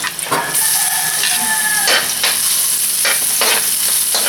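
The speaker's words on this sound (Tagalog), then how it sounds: "Igisa po natin mabuti ang sibuyas para lumabas ang lasa nito." Onion and garlic are sautéed in a pan, a loud close sizzle with repeated scraping stirs and a few light clinks of the utensil.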